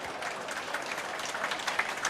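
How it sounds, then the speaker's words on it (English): An audience at a county fair livestock show gives a round of applause for the exhibitors, steady dense clapping from a moderate distance in an open space. "Let's give all those exhibitors a nice round of applause."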